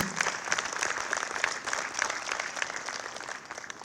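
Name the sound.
audience applause at a ribbon cutting ceremony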